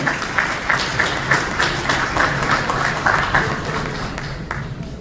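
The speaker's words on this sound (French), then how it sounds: "Sous vos acclamations, s'il vous plaît." An audience applauds at a mining-sector panel event in the DRC, producing scattered, uneven clapping with distinct hand-claps standing out, moderately loud and tapering off toward the end.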